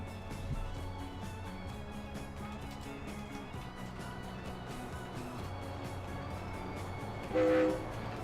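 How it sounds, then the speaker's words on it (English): A train engine horn in the railway game Transport Fever sounds once near the end, a short tonal honk over a steady low rumble of the rolling locomotive and wagons. "And it honks nice too."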